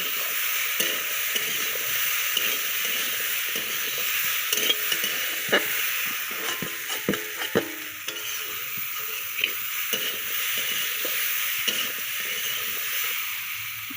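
Potato, green banana, papaya and fish curry being sautéed in a pan, continuous soft frying hiss and sizzle with occasional stirring clinks and scrapes of a utensil, no talking.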